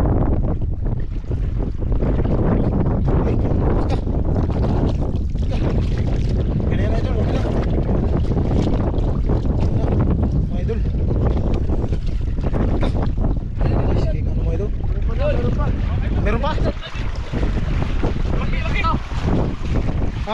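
Strong wind buffets the microphone at a beach near boats, a constant loud roar with surf underneath and some faint talk.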